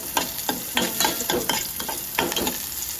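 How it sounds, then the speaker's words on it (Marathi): Cumin seeds, curry leaves and tomato sizzle in hot ghee, a steady crackling fry broken by several rhythmic scraping stirs of a spoon in the pan, close and fairly loud, with no one talking. "त्याच्यामध्ये आपल्याला थोडंसं जिरं टाकायचं आहे कढीपत्ता टाकायचा आहे आणि मग हा आपण टमॅटो टाकायचा छान ह्याला खमून फोडणी देऊन घ्यायची आहे"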